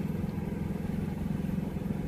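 A portable gasoline generator, a Predator 3500 or WEN 3800, runs steadily with a low, throbbing engine hum and rapid regular pulsing, heard close up, with no talking.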